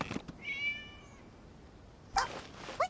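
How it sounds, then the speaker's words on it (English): A cat in Genshin Impact gives a single clear, drawn-out meow, followed by a couple of short soft noises against a quiet background. "It was just a cat."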